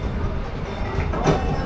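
The Disneyland Railroad train rumbles along its tracks near Tomorrowland, a steady loud roar with faint clacking and a brief louder burst, heard from on board with no talking.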